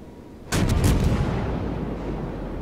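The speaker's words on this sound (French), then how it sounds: "les premiers coups de canon du Mogami, c'est sur le Bismarck" Heavy cruiser Mogami's main guns fire in World of Warships, a sudden loud booming salvo that erupts from quiet and rolls into a sustained rumbling roar, with several sharp blasts layered close together at the start.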